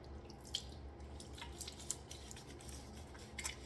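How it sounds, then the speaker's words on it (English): Bloom water splashed onto a face before a shave with Stephen Davidson soap, giving scattered soft drips and wet pats over a low, steady hum, close and quiet, with no talking. "I'm gonna put this bloom water on my face"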